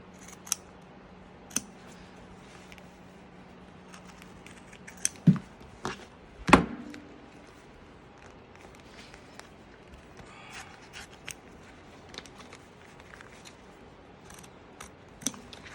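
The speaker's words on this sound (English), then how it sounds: "grab our scissors, and we are going to applique cut all the way around that star" Scattered snips of scissors cutting fabric around an appliqué star in a hoop come in irregular bursts, a few sharper clips standing out against a quiet background hum.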